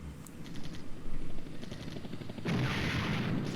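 Gunfire in the Flashpoint Campaigns: Red Storm tank battle game: a run of muffled rapid shots, then a louder, denser burst of firing near the end, heard alone.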